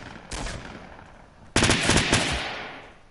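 Bursts of SMG fire in the Fortnite battle royale game, a short volley followed by a louder, longer rapid stream of shots that tails off.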